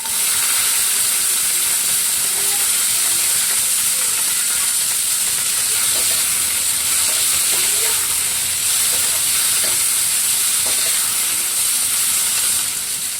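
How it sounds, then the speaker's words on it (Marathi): Cluster beans (guar) fry in hot oil, giving a loud, steady, close sizzle with a dense crackling texture that continues unbroken throughout. "आपल्याला या शेंगा मस्त तेलामध्ये फ्राय करून घ्यायच्या आहे"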